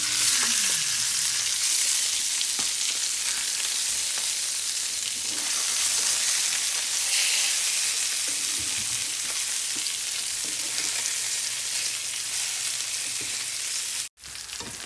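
A salmon fillet, just flipped, fries in a hot pan with a loud, steady hiss and crackle that runs unbroken for many seconds, with a brief dropout near the end.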